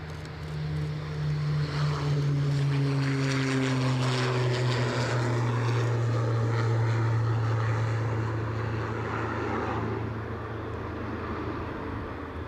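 A Jetstream turboprop taxis at Aberdeen airport, giving a loud, steady propeller drone with a whining engine tone that slowly drops in pitch, heard alone and close for the whole stretch.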